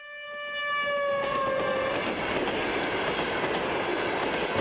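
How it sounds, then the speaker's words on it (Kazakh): A train rolls through a village level crossing, opening with a loud horn blast that fades into a steady, close rumble of wheels and cars streaming past for several seconds, with no voices. "Әрбір 20-30 минутта пойыз өтеді."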